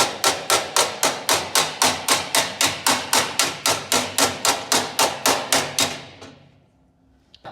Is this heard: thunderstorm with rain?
no